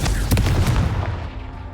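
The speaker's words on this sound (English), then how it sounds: "Confringo." In Hogwarts Legacy, a Confringo fire spell goes off with a sharp burst of crackling blasts and a low boom that decays over under two seconds, loud and close, no talking.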